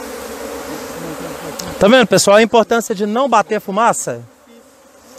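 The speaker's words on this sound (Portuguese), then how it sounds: "Muita abelha" Honey bees at an opened beehive hum in a steady, close buzz that carries under someone talking in Portuguese throughout.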